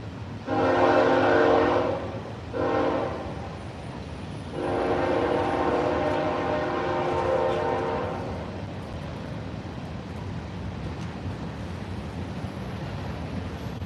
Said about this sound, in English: here's the train, so I'll be silent for a minute